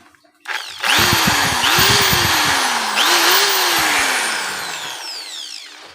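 A Lotus HD750X impact drill runs in hammer mode, spinning up loudly and holding a steady, rattling whine for several seconds before winding down, with a second speed surge midway. The drill runs close and alone, with no voices.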